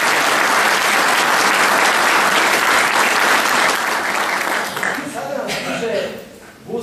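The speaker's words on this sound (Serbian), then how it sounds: "Molim jedan aplauz stvarno za njih." Loud, dense applause from a live audience honoring traditional gusle folk singers, sustained for several seconds before thinning out as a voice speaks over the fading clapping.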